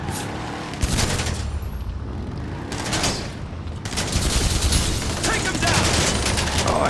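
Automatic weapon fire with military-style hardware in GTA 5 Online: dense, rapid bursts of gunshots and booms rattle on almost continuously, loud and close, over a busy game background.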